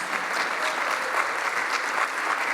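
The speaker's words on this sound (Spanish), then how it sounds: "Dé un aplauso al Señor." Steady, dense clapping from a church congregation during a sermon, a continuous even wash of many hands with no voices over it.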